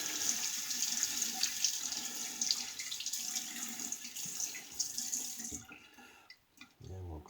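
Tap water runs steadily into a sink while a vintage Made in England 7 O'Clock safety razor is rinsed under it, a broad hiss that stops abruptly near the end, leaving brief small clatters.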